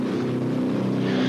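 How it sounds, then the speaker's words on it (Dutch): A Ford GAA engine in a mini tractor puller runs at an indoor tractor pulling event, giving a steady, loud, droning roar with no breaks. "als je niet vergis, is dit een Ford GAA-motor, zoals ze die noemen"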